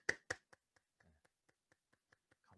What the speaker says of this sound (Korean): 서로에게 박수를 한번 하겠습니다.